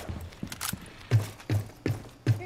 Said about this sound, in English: Oh, yeah, you can hear me just a thumping there.